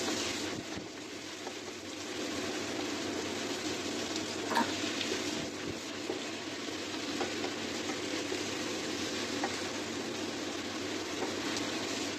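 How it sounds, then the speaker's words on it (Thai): Chopped vegetables and tomato are stir-fried in a pan for a French-style red bean soup, making a steady, even hissing sizzle with faint stirring that continues unbroken and at a moderate, close level throughout, with no voices. "ตามด้วยมะเขือเทศ แล้วเราก็จะผัดไปเรื่อยๆ ผัดไปจนกว่าเรา แน่ใจว่า ผักทั้งหมดนี้เริ่มสุก"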